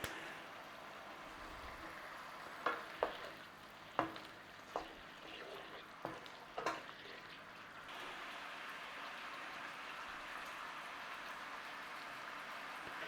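Pork adobo in a vinegary sauce simmers in an uncovered pan with a steady bubbling hiss. A few sharp utensil knocks come early, then the sauce keeps up an even sizzle.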